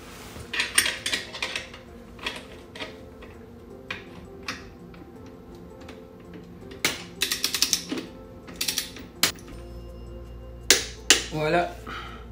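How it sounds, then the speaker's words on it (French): On a Yamaha FJR 1300 motorcycle, a torque wrench ratchets a screw tight in scattered, close clicks and clacks of metal tools, with brief pauses and faint handling noise between the bursts. "Mon torque wrench à 22 livres. Et puis ma petite clé de l'autre côté."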